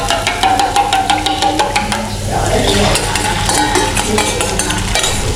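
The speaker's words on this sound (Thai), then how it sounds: "ตามด้วยไข่ลงไปมาตามกันเลย" Eggs poured into a hot pan and stirred, giving a steady close sizzle with scraping and clinking of a utensil against the pan throughout.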